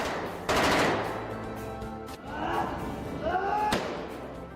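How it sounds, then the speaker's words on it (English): A Thompson submachine gun firing in a 1920s-era film scene, loud bursts and sharp reports close up, mixed with thuds, slams and shouting voices. "The Thompson, the Tommy gun, this is the most iconic kind of weapon of that era"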